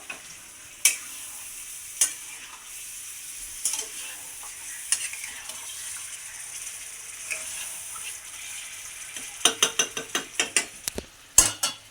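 Chicken sautéed with whole biryani spices in a pan at home, a steady sizzle under scattered spatula scrapes and clinks, with a quick run of sharp clattering stirs near the end.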